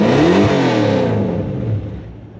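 Toyota Hilux fitted with a 1UZ V8 engine, running rough, revs up hard and then winds down, loud and close, with no talking.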